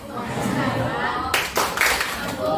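Children performing tepuk santiang, a rhythmic clapping game, in a classroom: a burst of sharp claps in the second half follows a stretch of chatter and voices, with talk continuing around the clapping.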